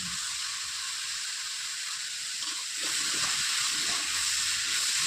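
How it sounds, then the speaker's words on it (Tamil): Curry leaves frying in hot oil for a crab gravy, giving a steady broadband hiss and sizzle that grows a little louder partway through, with no talk over it. "நல்லா வதங்கட்டும்."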